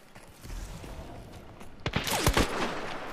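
A cluster of sharp gunshots rings out in the Halloween hunt of the video game Hunt: Showdown, several quick reports bunched together over a steady background of ambient game noise.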